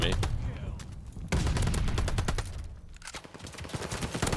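MP40 submachine gun in Call of Duty Vanguard firing sustained rapid bursts up close, dense rattling automatic fire with a short break, a voice talking over it.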